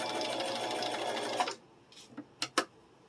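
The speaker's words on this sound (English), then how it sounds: "Don't forget your top back stitch." Sewing machine stitching fabric for a kitchen boa, running steadily and loudly for about a second and a half, then stopping, followed by a few soft clicks and taps.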